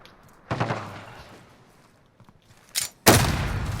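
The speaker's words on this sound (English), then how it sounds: "This is a slow sniper." Sniper rifle shots in a video game: two sharp, loud reports about two and a half seconds apart, each with a noisy decaying tail, separated by a quieter stretch.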